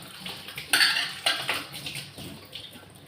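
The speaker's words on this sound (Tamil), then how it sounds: "இதில் நான் என்ன பண்ண போகிறேன், இட்லி தட்டு எடுத்து வச்சுட்டு" Metal idli plates clink and clatter as they are set into an idli steamer pot, a few sharp metallic knocks and scrapes at close range, fairly quiet, with no talking.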